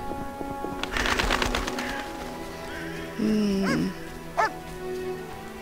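A dog in The Witcher video game gives a few short barks and yips, loud and close, over steady game ambience with birdsong, a later whine-like call standing out.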